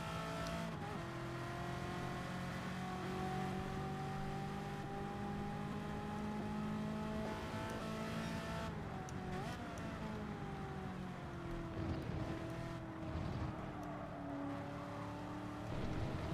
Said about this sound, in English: The racing V6 in the GT sounds fantastic